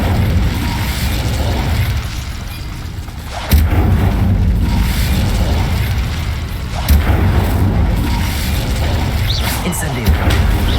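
Repeated spell impacts in Hogwarts Legacy, an Incendio fire spell among them, land as sharp booming bursts at intervals over steady game ambience and background noise.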